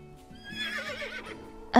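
A horse on a ranch whinnies in a drawn-out, wavering neigh, moderately close and clear, with a sharp louder sound cutting in at the very end.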